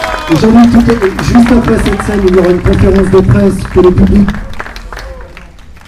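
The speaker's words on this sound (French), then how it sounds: "vous pouvez l'applaudir bien évidemment" An audience applauds and cheers sailor Jean-Luc Van Den Heede's podium arrival at the 2018 Golden Globe Race. Steady clapping runs under someone speaking French over a microphone, then fades near the end.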